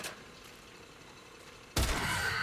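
A Miter Incarnon weapon firing in Warframe: a quiet lull, then a sudden loud burst of shots near the end that breaks into dense, sustained fire.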